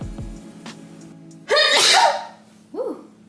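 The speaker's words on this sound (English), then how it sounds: "if you ain't sneezing, it ain't seasoned" A single loud sneeze bursts out while chicken is being seasoned with smoked paprika powder, followed a moment later by a shorter exclamation, with quiet kitchen background before it.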